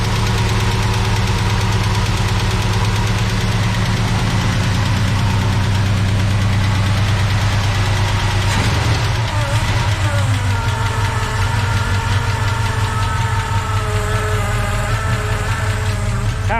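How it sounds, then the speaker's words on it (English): A 1970 Chevy big block V8 idles loudly and close up with a deep, continuous rumble, a fast ticking from a suspected lifter running through it, and a shift in tone about halfway through. "To me, that sounds like a lifter tick and not an exhaust tick."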